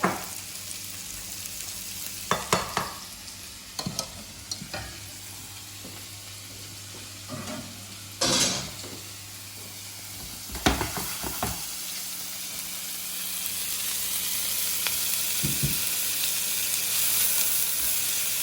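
Crispy beef sizzling in hot oil while it is drained, a continuous hiss with scattered clanks and scrapes from the pan and utensil, close, the sizzle swelling louder toward the end.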